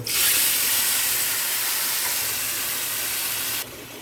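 Chili paste hits a pan of salted, turmeric-coated fried tengra fish, giving a loud, dense, steady hiss that fades slightly before cutting off abruptly near the end.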